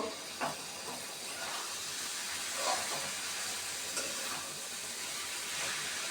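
Boiled chicken meat stirred into spice paste frying in a pan makes a soft, continuous hiss and sizzle with a few faint scrapes, heard quietly and alone.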